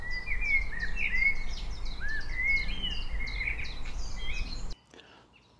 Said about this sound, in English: It's lovely to sit here and listen to all the birds